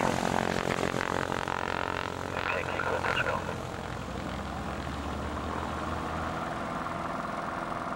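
Small propeller airplane engine drones steadily throughout while in flight, a loud continuous cabin hum that eases slightly after a few seconds.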